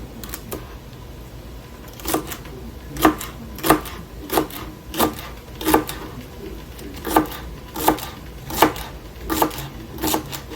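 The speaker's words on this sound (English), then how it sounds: "And scoot it together and chop into pieces. This is 2 medium stalks." A knife chopping two medium celery stalks on a board in a home kitchen, giving sharp, close, evenly spaced cuts, about one every half second to second, over a faint background hum with no talking.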